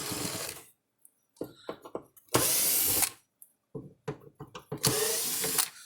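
A power driver whirs in short bursts, loosening T15 Torx screws from a Zareba fence charger casing, with brief ratcheting clicks and handling noises between the close, loud runs.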